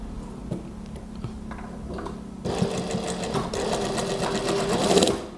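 Sewing machine stitching a Japanese zipper onto a gamis cardigan: a steady mechanical whir with rapid ticking needle strokes, quieter at first, then louder and denser for the second half.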